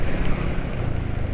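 A motor engine running on Petroasia Revol 20W40 oil gives a steady, smooth low rumble, close and fairly loud, over a short stretch with no voices.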